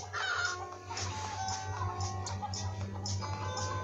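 Many chickens cluck steadily and close together over a low electronic hum, a dense, continuous flock chatter with a synthetic, game-like quality, from the mobile game Egg, Inc.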